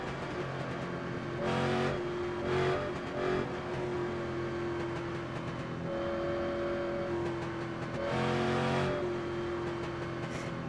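A Street Stock race car's engine in iRacing at Charlotte, coasting in neutral during a cool-down lap, gives a steady droning hum with a few brief swells in engine noise.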